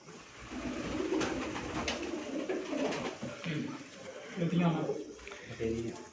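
Pigeons coo on a rooftop loft, soft repeated coos heard close under someone talking steadily.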